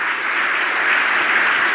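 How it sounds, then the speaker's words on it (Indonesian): Steady, dense applause from a church congregation fills the whole moment, loud and continuous with no talking over it. "Tepuk tangan buat Tuhan Yesus."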